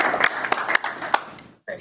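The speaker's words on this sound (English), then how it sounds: "if we could give them both a round of applause" People at a public meeting give a brief round of applause with distinct individual claps, which stops abruptly just before the end as a voice begins.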